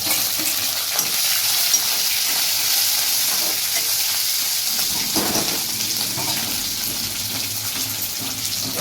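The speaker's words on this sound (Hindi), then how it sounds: "अब ये मसाला थोड़ा देर तलना है संगवारी।" Onion, chili and masala frying in a pan, a steady close sizzle with stirring scrapes running throughout, no talking over it.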